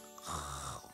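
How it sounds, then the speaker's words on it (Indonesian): A man snores inside a camper at night, one brief close snore. "Kalian tahu kan suara dengkuran ayah kalian?"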